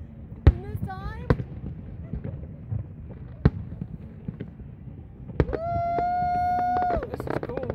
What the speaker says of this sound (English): This is cool watching two fireworks.